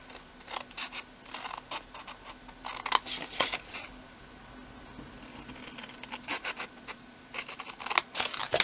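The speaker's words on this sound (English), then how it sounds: "for the bottom of the box, you're just going to cut straight up all of those score lines" Scissors cutting along score lines at the bottom of a paper treat box, a series of faint, close snips and scratchy paper sounds in an irregular rhythm, no voices.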